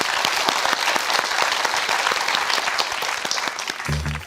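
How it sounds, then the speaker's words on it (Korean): Studio audience applause on the Korean quiz show Jang Hak Quiz: a dense, steady wash of many hands clapping close by that holds through the clip, with a brief low tone entering at the very end. "자, 박수로 청해보겠습니다"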